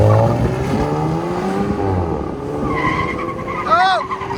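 A 2025 VW Golf GTI 2.0L turbo with straight pipes pulls away, exhaust burbling and rising in pitch, with tire squeal and another vehicle close by under steady road noise and some talk.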